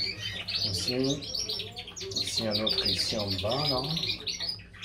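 Canaries in breeding cages chirp and twitter continuously, bright rapid calls close by, while someone talks over them.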